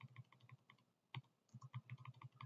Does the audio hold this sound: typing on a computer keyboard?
yes